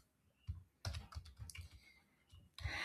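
Someone types code on a computer keyboard, with quick bursts of close, crisp key clicks separated by short pauses and ending in a louder flurry of keystrokes. No one speaks.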